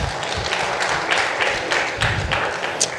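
An audience at a film press meet bursts into sustained applause, dense overlapping claps holding at a fairly loud, even level from start to end, with no speech over it.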